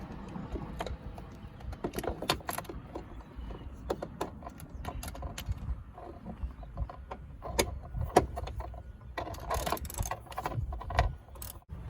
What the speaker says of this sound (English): a ratchet with a 10mm socket, because there's bolts in there, and you're going to want to take these off